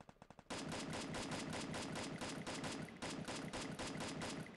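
Rapid automatic gunfire in the Garena Free Fire battle royale game, a few separate shots followed by a long, loud sustained burst of evenly spaced rounds with brief pauses.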